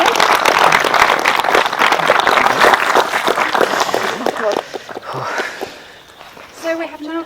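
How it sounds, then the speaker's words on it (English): An audience at a wedding ceremony applauds with dense, loud clapping for about four seconds. The clapping then thins out and fades, and a voice speaks as it dies away. "Round of applause, I think, for that young lady."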